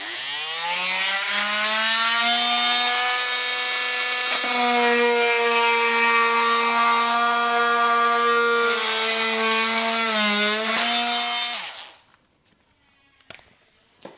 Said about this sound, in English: I'm gonna be using a multi-tool. We'll just cut this along and then test fit it up.